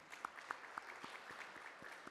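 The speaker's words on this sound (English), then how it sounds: "A round of applause to our panelists" A summit audience applauds panelists: a faint, distant spread of clapping with a few sharper claps standing out in a loose rhythm.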